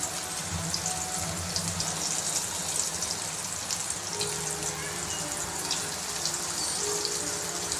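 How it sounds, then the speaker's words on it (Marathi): Halwa fish coated in rice flour and semolina frying on a hot tava, a dense, even crackling sizzle that stays constant throughout without talk. "आता तव्यामध्ये फिश टाकून घेते"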